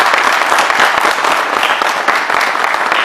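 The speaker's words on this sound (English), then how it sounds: "How about a round of applause here?" Dense, steady applause from a large audience, loud and continuous throughout with no pauses.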